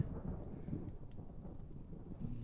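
Low, steady rumble of a thunderstorm in the horror video game Pineview Drive, with faint rain hiss and soft distant rolls of thunder throughout, no voices.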